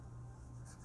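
Gel pen tips scratch faintly across cardstock, drawing fine details; a soft, continuous, close-up scratching with a couple of quick strokes near the end and no talking.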